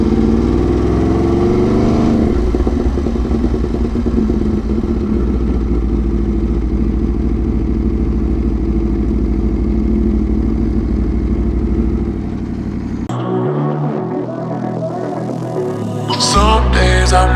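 An Aprilia RSV4 motorcycle fitted with an SC Project exhaust runs loud and steady for about twelve seconds, then the tone shifts abruptly and a sharp rev rises near the end.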